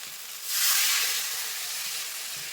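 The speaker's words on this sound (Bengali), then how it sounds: "আমি আলু দিয়ে মশলার সঙ্গে ভালোভাবে কষিয়ে নিয়েছি এবার জল দিয়ে দেবো" Water is poured into a hot pan of potatoes cooked with spices for a pangas fish curry, and a loud hiss of steam bursts up, then settles into a steady, softer sizzle, with no voices.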